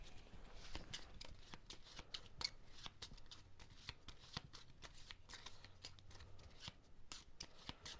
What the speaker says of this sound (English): We take all of these, and then we shuffle.